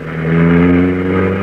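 A car engine in an old 1940s radio drama, heard close and loud as a steady, rising rev of a motor pulling away, with no talk over it.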